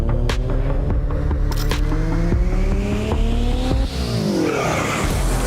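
Officially licensed race cars in a racing video game roar past, their engines climbing through the gears with rising whines, tires squealing, and one pass dropping sharply in pitch.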